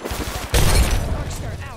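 Gunfire bursts in Apex Legends: a rapid string of shots, then a loud, dense volley erupting midway and continuing near and heavy to the end.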